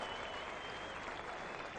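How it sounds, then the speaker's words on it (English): Distant crowd applause rolling around a test-match cricket ground, England against South Africa, greeting a 100-run partnership; a steady, faint broadband wash of clapping without speech. "And there is great applause"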